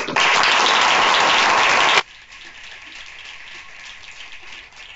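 Loud, dense applause from an audience at the close of a talk, sustained for about two seconds before cutting off abruptly, leaving a low murmur of room noise.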